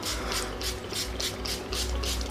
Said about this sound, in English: I'm just gonna spritz my face with some setting spray